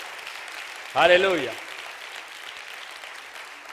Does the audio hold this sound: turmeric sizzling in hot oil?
no